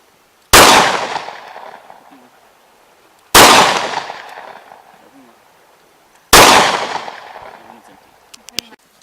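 Three loud, close 20 gauge shotgun blasts fired outdoors, spaced a few seconds apart, each a sharp crack trailing into a long fading echo.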